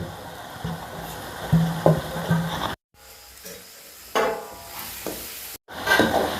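Turmeric, red chilli and masala powders stirred and sizzling in hot oil in a pan for onion chutney, close-up bursts of frying and scraping broken by short pauses.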